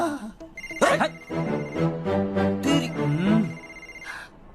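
A phone ringing during a Hindi film scene, with a repeated electronic ringtone heard over and around men's speech, near and moderately loud.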